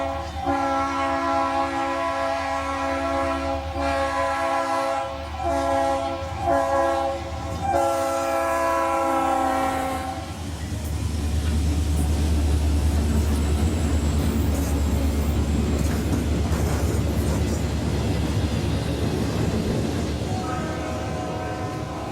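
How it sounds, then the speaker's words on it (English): Conrail freight train sounds its horn repeatedly for street crossings while passing through town, long sustained blasts over a steady rumble of locomotives and rolling cars. "Train INPI blows for the many street crossings as it comes through town."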